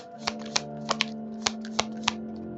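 Tarot cards shuffled close by in a quick, irregular run of about seven crisp riffling snaps over a faint steady hum, with no talking.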